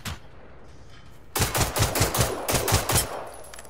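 Rapid bursts of automatic gunfire erupt suddenly in the Generation Zero video game, close and loud, with clustered rattling volleys continuing for a couple of seconds before cutting off.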